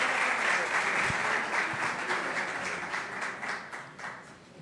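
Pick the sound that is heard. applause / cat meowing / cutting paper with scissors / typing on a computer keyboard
applause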